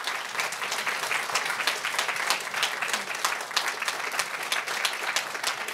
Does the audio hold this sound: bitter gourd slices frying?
no